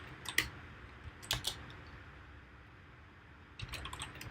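A few scattered keystrokes on a computer keyboard during a scheduling tutorial, three short bursts of clicks spread across a quiet room, faint and close.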